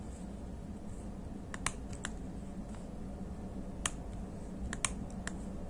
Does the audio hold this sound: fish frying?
no